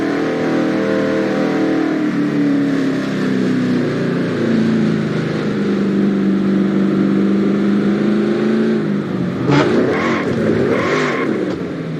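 A stock car in the NR2003 racing game attempts a burnout, its engine droning steadily with slowly shifting pitch before a few sharp revving surges near the end, loud and close with no talk over it.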